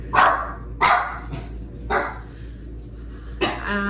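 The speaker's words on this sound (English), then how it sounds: "the dog is barking" A dog barks four times indoors in a home, sharp spaced woofs about a second apart, moderately close and clear over a quiet background.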